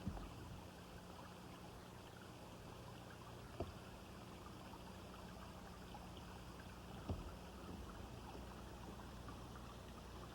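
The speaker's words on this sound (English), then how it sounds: "And here's the spring water running." Spring water runs outside a cedar log cabin, a steady low trickle and gurgle held at an even level throughout, broken by two faint knocks partway through.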